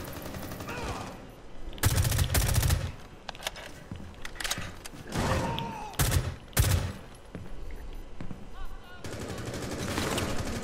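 Bursts of automatic gunfire crack through a Rainbow Six Siege match, several loud volleys in quick succession around the middle and a sustained rattle near the end, over a busy background of game noise.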